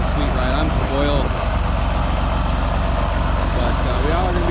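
A John Deere tractor used for spraying corn runs with a constant low diesel rumble from inside the cab, while a person talks over it.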